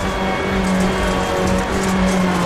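A loud, continuous engine drone heard from inside a rally car's cockpit in the video game EA Sports WRC, with a steady hum and rushing road noise.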